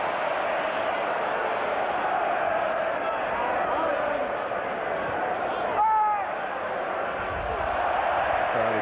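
A football crowd at the 1998 Arsenal versus Everton match keeps up a steady, distant roar and murmur, rising briefly in reaction, under a commentator's continuous talk.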